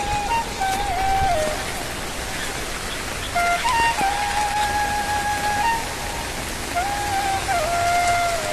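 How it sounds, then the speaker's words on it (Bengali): Steady rain falls on a road under reconstruction between Sherpur and Nandigram, a constant wash of drizzle on the surface with passing traffic in a jam and repeated tonal vehicle horns or whines rising over it. "সকাল থেকে ধীরে ধীরে বৃষ্টি হচ্ছে।"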